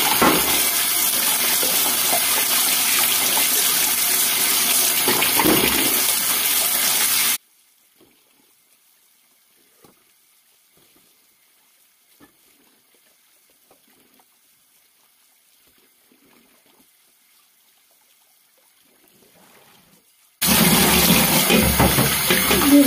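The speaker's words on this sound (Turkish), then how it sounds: "Hemen bol suda yıkayalım." Plenty of running tap water gushes loudly over vegetables being washed, stops for a long quiet stretch, then the tap rushes on again at full strength.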